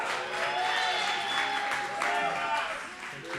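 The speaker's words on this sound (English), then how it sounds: "Can we have some applause?" Audience applause at a live comedy show, a dense wash of clapping that runs steadily for the whole stretch with voices and tonal sounds layered over it.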